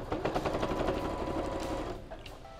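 A sewing machine runs steadily as it stitches two small pieces of fabric together for a floral fabric backpack, its fast rhythmic whir close and loud, then tapering off near the end.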